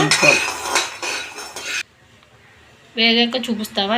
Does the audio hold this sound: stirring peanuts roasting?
yes